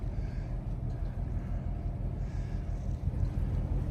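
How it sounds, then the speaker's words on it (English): Twin boat engines run in reverse as a boat pulls off a dock near Apalachicola, Florida, a steady low rumble with wind and water noise and no talk. "Now both engines reverse."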